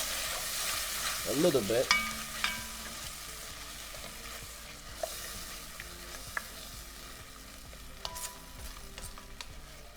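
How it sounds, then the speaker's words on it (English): Coconut milk sautéing in a pan, a soft steady sizzle with occasional utensil scrapes and clinks; a voice speaks briefly near the start. "Because you don't want the raw coconut taste in the food, so we're gonna let it saute here"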